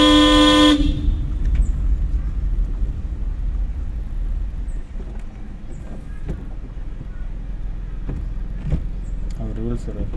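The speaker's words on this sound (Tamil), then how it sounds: "இங்கேயே ஹார்ன் அடித்தா அதுக்கு அவங்க போயிடுவாங்க." A single loud car horn blast sounds at the very start of a driving-school lesson, close and lasting about a second, then gives way to a low engine rumble and cabin noise with faint clicks.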